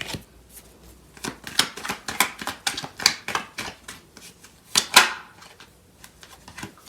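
Tarot cards shuffled by hand in a quick, crisp series of papery riffles and snaps, close and fairly loud, with no talking.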